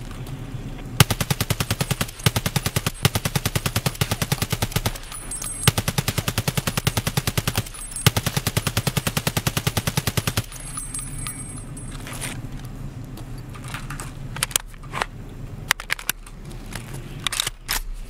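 A suppressed RD rifle in Escape from Tarkov empties a drum magazine in long rapid bursts of muffled, evenly spaced shots, broken by brief pauses, then a few scattered clicks and rattles of handling.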